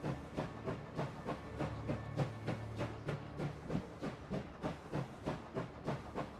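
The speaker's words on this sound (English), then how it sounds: "let's move the train on" A steam train in a Czechoslovak Legion railway video game chugs along steadily, its rhythmic puffs of hiss and clanking wheels repeating about twice a second over a low rumbling drone, with no talking.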